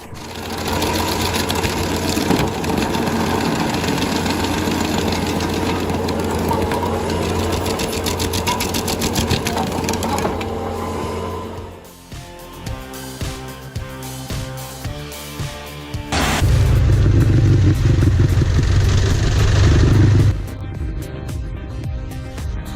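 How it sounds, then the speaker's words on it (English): Stumpster 280 stump grinder mounted on a Bobcat T650 runs loud and steady with a heavy mechanical chatter, drops to quieter intermittent grinding midway, then surges back to full power near the end. "Pair a Bobcat T650 with a Stumpster 280 grinder and suddenly tree roots stop being a problem."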